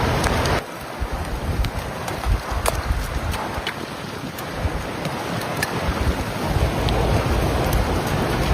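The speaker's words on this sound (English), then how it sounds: "See, look, it's also hail coming down." Hail and heavy storm rain come down on a road in bad weather in Illinois, a dense continuous roar with scattered sharp pellet clicks throughout, loud and close, with no voices.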